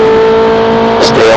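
A Ferrari 458 Italia accelerates on the Red Bull Ring race track, its engine a loud steady tonal roar, heard from inside the car with a person talking over it.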